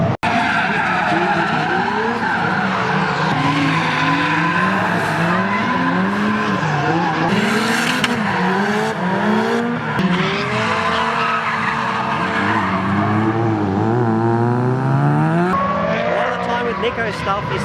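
Drift cars slide around the track at Nikko during an all-girls drift day, with long tire squeals and revving engines rising and falling continuously, heard from a spectator area under crowd noise.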